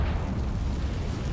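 A Confringo fire spell explodes in Hogwarts Legacy during a fight with spiders, giving a dense, loud, rumbling blast that holds steady with no clear onset or decay.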